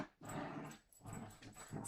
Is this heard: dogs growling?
yes